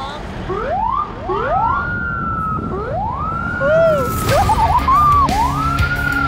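A police escort siren wails with rising and falling sweeps, repeated several times, loud and close, with traffic noise underneath, in southern Kyrgyzstan.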